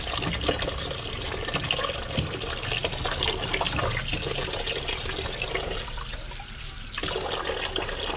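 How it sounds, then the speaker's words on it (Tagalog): Taro stalks and okra rinsed under a steady stream of running tap water, a continuous loud splashing and trickling that goes on without a break and with no voices. "Hugasan natin ang ating takway at ang ating okra."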